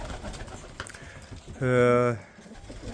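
A single pigeon coo, low and harmonic, rising out of quiet background noise for about half a second before fading.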